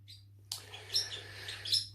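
Birds chirping nearby in short bright bursts over a low steady hum, with no talking.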